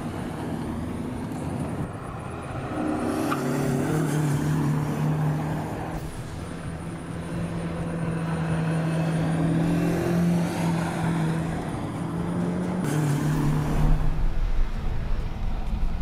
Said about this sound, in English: One thing you'll notice is how awesome our intake sounds.